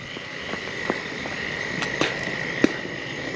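A small southern toad gives a few short, scattered chirping calls by a road at night over a steady hiss of insects and background noise, nearby and moderately quiet.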